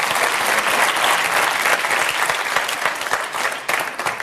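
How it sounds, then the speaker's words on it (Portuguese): Theatre audience at a Portuguese stand-up comedy show applauding, dense and loud clapping that holds steady for several seconds and tapers slightly near the end, with no voices over it. "agora agradeci que aplaudissem só para me lembrar"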